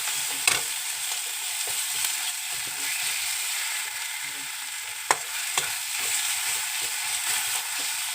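Spices fry in a small amount of oil, a steady close hiss and sizzle with light stirring scrapes and a couple of sharp clinks against the pan.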